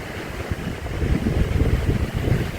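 Chinook wind blowing in remote Alaska, a steady loud roaring rush with low buffeting gusts across the microphone, continuous and without talk.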